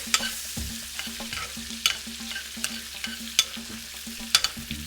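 Butter sizzles steadily in a pan while lobster gently cooks, with soft stirring scrapes and light clinks of a utensil against the pan recurring close by; no talking.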